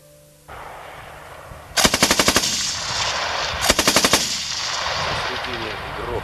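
Two loud, close machine gun bursts, each a rapid string of about six shots, ring out over a steady rumbling background, with a short pause between the bursts.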